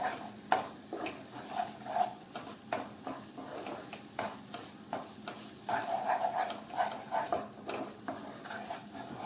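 Spinach and green peas sabzi stirred in a pan, a spoon scraping through the mix in repeated short strokes with a soft sizzle underneath, fairly quiet and close.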